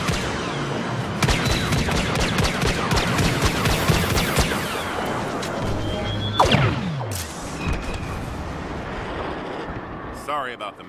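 Dense, continuous blaster fire and explosions from the Star Wars Battlefront game's Walker Assault mode, loud and overlapping throughout, with a sharp descending whine near the end.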